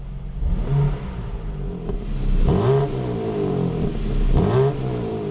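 A 2026 BMW M2 CS engine idles with its exhaust valve closed, then revs up twice in quick blips, each rising and falling back, moderately loud and close.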